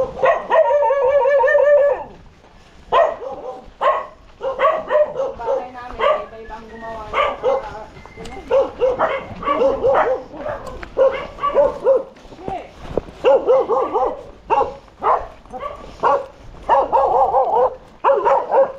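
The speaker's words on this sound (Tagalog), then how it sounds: "Dami nilang aso." Several dogs bark and yip in a busy, overlapping chorus close by, with people talking over them.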